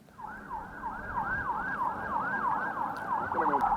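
An ambulance siren wails in Nabatiyeh, southern Lebanon, as it carries casualties to hospital. The rising and falling yelp repeats steadily and sounds close and loud over a low road rumble.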